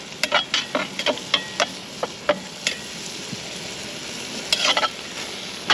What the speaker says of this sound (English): Might as well just go ahead and stir all that together.